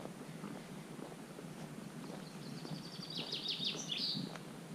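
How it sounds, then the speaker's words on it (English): Birds sing in the woods of a French forest near a lakeside campsite: faint, distant chirps over soft wind, with one clearer trilling phrase standing out toward the end. "And all you can hear is the birds."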